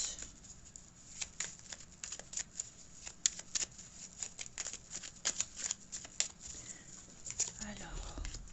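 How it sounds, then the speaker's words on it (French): Tarot cards being shuffled by hand, a long run of quiet, close, uneven riffling and slapping clicks, with soft speech faintly in the background. "elles sont tellement chiantes à mélanger ces cartes-là"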